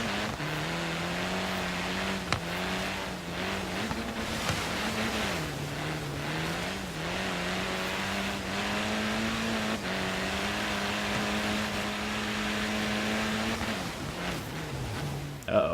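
A rally-built car in the racing game Forza Horizon 3 drones with a steady engine tone that dips and climbs through gear changes, heard at moderate level beneath someone talking.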